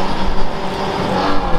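A Renault 4L race car's engine runs at steady high revs with the brake off during a dyno tuning test, giving a loud, continuous droning roar with slight surges.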